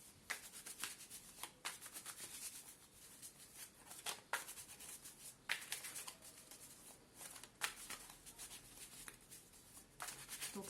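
Tarot cards shuffled and drawn by hand in a quiet room, a steady soft papery riffle broken by sharper slaps and flicks every second or two, close and fairly faint.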